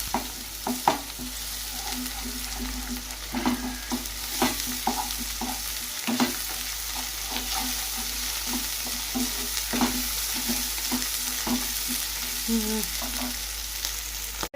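Chicken frying in a pan with turmeric and ginger-garlic paste, a continuous sizzle with frequent scraping stirs and spoon knocks, close and clear with no talking.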